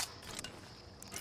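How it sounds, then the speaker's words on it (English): Weapon reload in Apex Legends, a quick sequence of faint mechanical clicks and metallic clacks over about a second, a couple of sharper snaps near the start and end. "Reloading."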